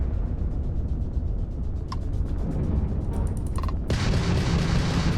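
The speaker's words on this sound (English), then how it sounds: "Let's put some power into the ballistics cannon." Heavy ballistics cannon fire in the Starfield space game, a dense rumbling barrage with mechanical clanks, then a sharper, louder burst of blasts near the end, with no talking.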